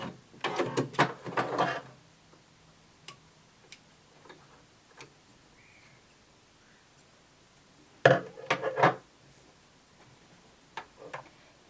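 Sewing machine stitching a skirt seam, with short back-and-forth backstitch passes: two brief bursts of rapid mechanical ticking separated by quiet, plus a few faint isolated clicks as the fabric is handled.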